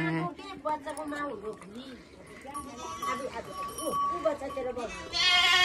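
Goats bleat in short, wavering cries over steady chatter from several people nearby.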